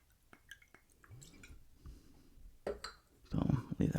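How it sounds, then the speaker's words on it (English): Riesling wine poured into a glass: faint drips and handling noises at first, then louder liquid splashing and gurgling toward the end, close up. "I'm gonna pour this glass and then we're gonna get started."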